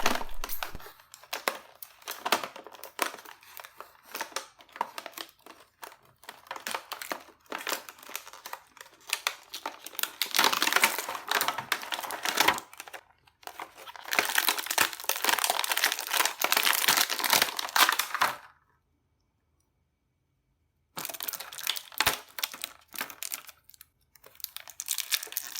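A knockoff Hasbro Marvel Legends Retro Symbiote Spider-Man action figure is pulled from plastic clamshell packaging, producing close, bursty crinkling and crackling of plastic in long runs with a brief silent gap.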